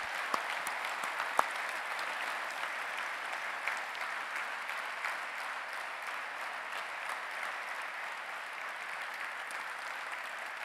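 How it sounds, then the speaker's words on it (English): A conference audience at a front-end developer event gives a sustained round of applause, steady dense clapping filling the room for about ten seconds without pause. "so let's have a round of applause for them"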